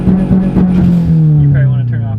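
Subaru STI with its stock engine, held in first gear with the clutch in, droning with a steady low tone that slowly sags in pitch, close and loud.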